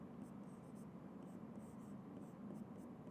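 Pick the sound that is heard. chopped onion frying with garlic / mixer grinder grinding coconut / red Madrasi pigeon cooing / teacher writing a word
teacher writing a word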